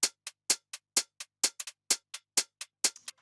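Closed hi-hat from a funky minimal deep house track in Ableton, transients squeezed down, playing short crisp ticks in a steady groove with occasional doubled hits, dry and alone.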